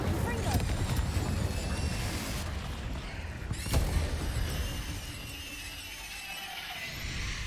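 In the Hogwarts Legacy video game, a Confringo spell explosion lands as a sharp, sudden burst partway through, set against a continuous rumble of game effects and background noise.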